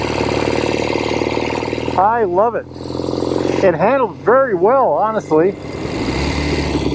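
A 1970 Royal Enfield Interceptor 750 Mk II motorcycle runs with a loud steady engine rumble, its note rising and falling through gear changes while someone talks over it close up.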